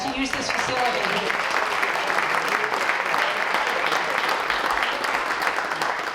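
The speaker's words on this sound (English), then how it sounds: "we would love to give a big round of applause to Dick Reminger" A crowd applauds steadily, a dense wash of clapping that holds at even volume throughout.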